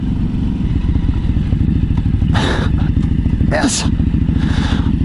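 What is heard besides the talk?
Ducati Hypermotard 939 motorcycle riding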